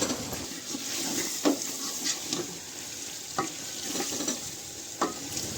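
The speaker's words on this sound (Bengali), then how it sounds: "মশলাগুলো দিয়ে খুব ভালোভাবে আমরা এবার কষবো মাংসটিকে" Chicken pieces frying and stirred in a pan with spices for Arabic kabsa, village-style cooking: a steady close sizzle with periodic scraping stir strokes, no talk.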